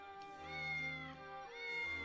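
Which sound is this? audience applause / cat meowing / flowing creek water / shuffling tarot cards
cat meowing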